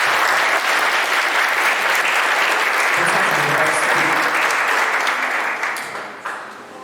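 Loud, sustained applause from an audience at a corporate training event, steady dense clapping throughout that begins to fade in the final second.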